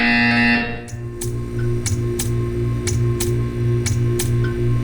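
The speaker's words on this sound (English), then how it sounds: "When you hear the buzzer, stare at the art" Short repeated buzzer tones from the video game Portal 2, sounding at a steady rhythm of roughly one per second over a low electronic hum, loud and close.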